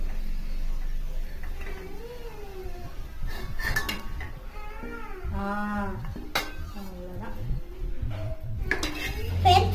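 Cooked adai lifted off a pan onto a plate, with a few metallic clinks and scrapes of utensil on cookware, close and intermittent, amid light kitchen noise.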